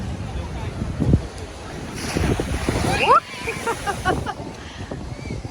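Storm surf on the Black Sea at Lanzheron beach, Odesa, rumbles and splashes against the shore amid gusty wind, with a louder crash midway; a person talks briefly under the roar.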